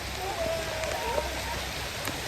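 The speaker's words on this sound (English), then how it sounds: "rain." Steady rain pours down on an outdoor walkway at a Florida theme park, a dense, continuous close hiss of drops. Faint voices come through underneath.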